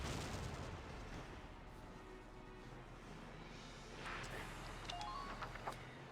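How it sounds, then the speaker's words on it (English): Mortar fire in the Valkyria Chronicles war game: a sustained, rumbling barrage of booms and blasts over a dense battlefield din, with sharper bursts near the end. "Let's just mortar this guy"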